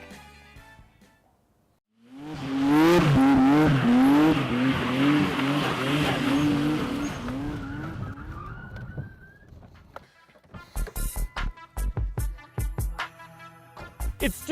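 Nissan Skyline R34 GT-T, a rear-wheel-drive 2.5-litre turbocharged straight-six, roars loud and close on a race track, engine note rising and falling through gear changes before fading, then bursts of revving and clatter follow.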